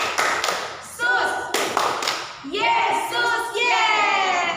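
Children at a Sunday school gathering clap their hands in short bursts of sharp, close claps, with group voices chanting along between and over the claps.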